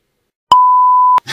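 A single loud censor beep, a pure steady tone lasting well under a second, cuts in sharply after silence and stops abruptly, followed by a brief bit of noise.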